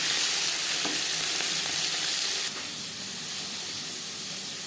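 Bata fish fries in a pan, giving a steady, close sizzling hiss that runs throughout and eases slightly partway through, with no voices.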